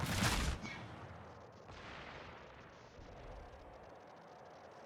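In a naval combat game, a warship's guns fire one heavy, booming salvo at the start, followed by a long rumbling decay and faint distant ambience, with no speech.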